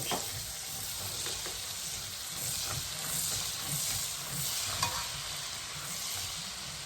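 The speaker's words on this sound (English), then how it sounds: "I'm going to saute this for 2 minutes" Chopped onions sauteing in a hot pan, a steady close sizzle with frequent stirring scrapes and small crackles running continuously at an even level.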